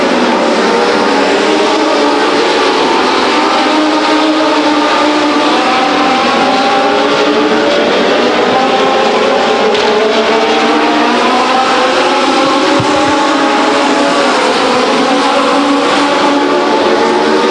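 Legends race cars at speed on Stockton 99 Speedway, a dense, steady engine roar from a pack of cars, sustained and loud throughout with wavering pitch as they circle the track.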